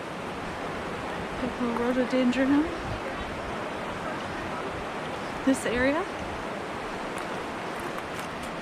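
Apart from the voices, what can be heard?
river flowing beside hiking trail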